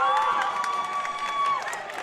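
A high school basketball crowd in a gym, North Rose-Wolcott against Lyons, cheers and shouts in a loud, continuous roar with a few higher whoops rising over the din.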